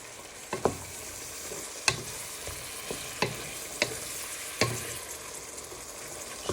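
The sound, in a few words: stirring onion, carrots and mince frying in a pan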